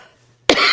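A single sharp, loud cough bursts out close after a near-silent pause, cutting off abruptly.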